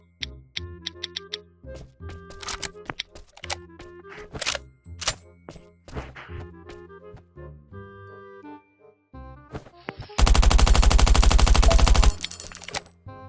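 Gunfire in the survival video game Last Island Survival: a dense, loud burst of rapid automatic shots near the end, preceded by scattered game effects and music-like tones.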